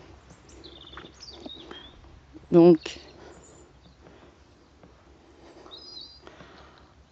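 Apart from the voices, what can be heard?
birds singing in a garden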